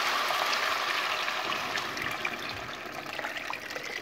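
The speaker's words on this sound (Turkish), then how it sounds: "kaynamış olan suyumuzu pilavımızın üzerine ekliyoruz" Boiled water being poured over rice for Turkish pilaf, a steady close splashing pour that fills the whole stretch and eases slightly toward the end.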